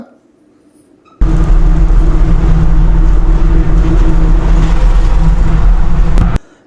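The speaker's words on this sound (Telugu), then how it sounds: "ఈ లారీ సౌండ్ వినండి" A loud, heavy lorry engine roar cuts in suddenly inside a road tunnel near Manali, holds steady for several seconds with a booming rumble, then stops abruptly.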